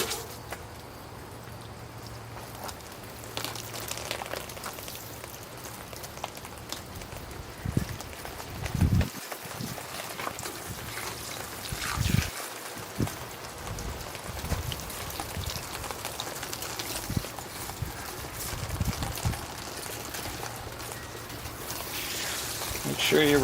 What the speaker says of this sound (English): All right, time to rinse it all off.